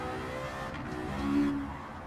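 A Honda S2000 engine in Gran Turismo 7 pulls under power, a steady tonal drone that rises slightly in pitch and swells in loudness midway before easing back, with no voices over it.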